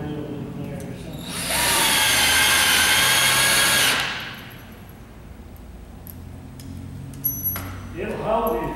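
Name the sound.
power drill driving screws into plywood floor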